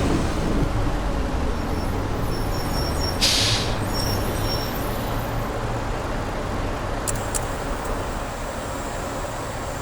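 A manual-shift Ikarus coach bus drives in OMSI 2, its engine droning steadily and low for the whole stretch, with a sharp hiss of air brakes near the start and faint clicks later, no talking.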